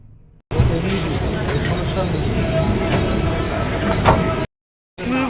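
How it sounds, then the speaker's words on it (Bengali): A local train pulling into Dum Dum Cantonment station, with a loud, steady rumble of wheels and carriages and occasional metallic clanks, cut by brief breaks in the sound, while a voice talks over it. "এখন দমদম ক্যান্টনমেন্ট ট্রেন ঢুকলো"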